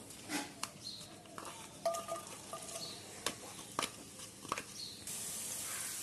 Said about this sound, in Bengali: এটা এখন আমি নেড়ে নেব।